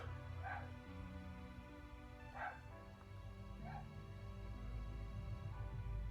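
A neighbor's dog barks through a wall, three muffled barks spaced apart at moderate distance over a steady low hum, with no talking.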